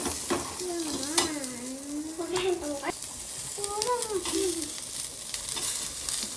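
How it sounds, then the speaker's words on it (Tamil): Crab curry ingredients sautéing in a pan, a steady low sizzle with scraping stirs, while a voice talks over the cooking throughout. "இப்போ வதக்கிடலாம் நல்லா வதங்கட்டும்"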